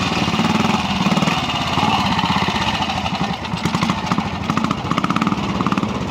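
A BSA unit-construction single trials motorcycle runs close by at a quarry trial, its engine thumping in a rapid pulsing rhythm that steadies, then blips and chugs as the throttle is worked, with no talk.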